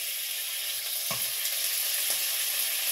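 Butter sizzling and frying in a hot pan, a steady bright hiss throughout with a couple of soft pops or spatters.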